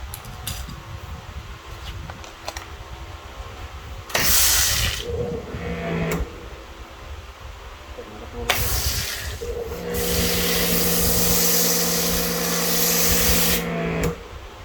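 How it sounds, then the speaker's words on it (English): A foam cannon sprays pre-wash suds onto the left side of a car in loud hissing bursts of several seconds each, with a whining pump tone under the longer spray. "And then we're going to foam the left side."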